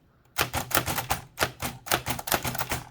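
Keys strike rapidly on a Hammond Multiplex typewriter, a fast, uneven run of close, crisp mechanical clacks after a brief quiet start.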